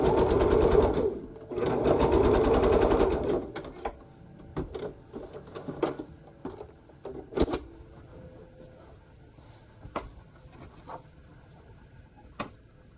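Sewing machine stitching a quarter-inch seam on a quilt block, running in two loud sustained bursts, then stopping and leaving scattered small clicks and taps of handling the fabric.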